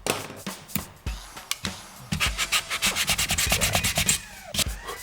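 A wooden picture frame being sanded by hand, close up, with a few separate rubbing strokes and then a fast, steady run of back-and-forth scrubbing.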